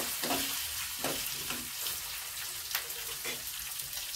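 Curry leaves hit hot oil in a village home kitchen, setting off a steady sizzle scattered with bright crackling pops and spits, close and fairly quiet.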